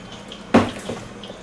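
Stock poured into a cooking pot of round steak in gravy: one short liquid splash with a quick gush that fades into faint trickling, close by with no talking.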